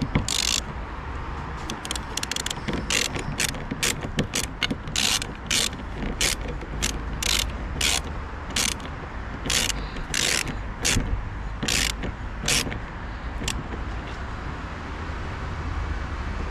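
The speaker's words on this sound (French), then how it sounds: "Et après on va juste revisser la vis." A ratchet tightens the screw on an Opel Astra H wiper arm, making a long run of quick, crisp metallic clicks in an uneven rhythm. The clicks are close and moderately loud over faint background noise.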